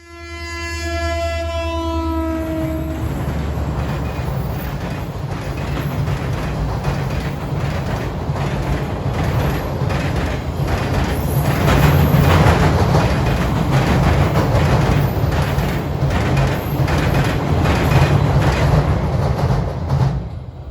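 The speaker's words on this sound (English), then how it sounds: "we were able to see the 502 coming in with its cut of 20 loads for the mill in Clewiston." A U.S. Sugar freight train hauling a cut of twenty loaded sugarcane cars toward the Clewiston mill rolls past, its horn sounding in several blasts at the start before a steady, loud rumble and clatter of wagons continues to the end.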